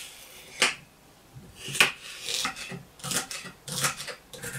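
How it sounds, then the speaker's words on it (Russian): A knife finely chopping celery on a board for pumpkin soup, a few separate sharp knocks and scrapes spread irregularly, close and moderately loud, with no talk. "нарезаем мелко сельдерей"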